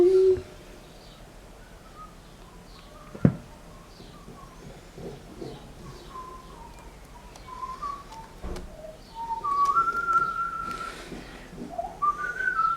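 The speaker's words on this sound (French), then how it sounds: "Vous l'entendez maintenant, il siffle." A high whistle rises and wavers through the middle and end, with a sharp knock early on and faint background noise.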